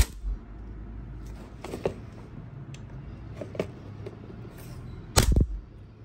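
A WE Trex Hicapa 5.1 gas pistol is test-fired, producing a few sharp snapping shots over quiet background; the loudest crack comes near the end.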